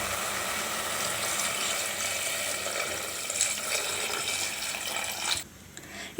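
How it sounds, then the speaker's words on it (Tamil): Water pours steadily from a small vessel into a pot of country chicken curry, a continuous splashing rush that stops abruptly near the end. "இப்போ இது கூட நம்ம ஒரு சொம்பு தண்ணி சேர்த்து கறியை வேக வச்சு எடுத்துக்கலாங்க."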